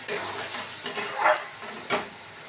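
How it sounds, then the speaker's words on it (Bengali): Spice masala being sautéed in a pan for a chicken dish, with a steady close sizzle broken by three sharp scraping stirs. "মশলাটা ভালো করে কষিয়ে নিচ্ছি"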